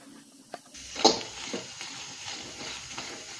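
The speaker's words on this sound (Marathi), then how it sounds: "तर आता आपण कढईमध्ये हा कांदा टाकून घेणार आहोत" Onion goes into a hot kadai over medium heat and begins to sizzle with a soft steady hiss, with a few faint stirring clinks, quiet and close.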